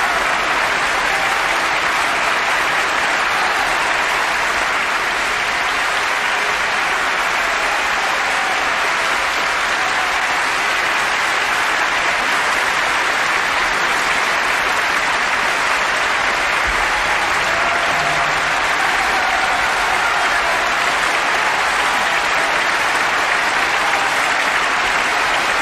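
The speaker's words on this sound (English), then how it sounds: "Standing ovation." Thunderous standing ovation at the opera for soprano Birgit Nilsson, a dense, sustained wall of clapping from a large audience that carries on loudly without pause.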